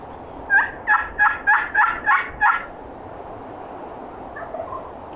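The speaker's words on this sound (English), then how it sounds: "So I'm gonna make a call and see if I can get him to gobble again." Wild turkey gobbling in answer to a call: a single rapid rattling gobble of about seven pulses, moderately near and loud, followed by faint distant calls in an otherwise quiet outdoor setting.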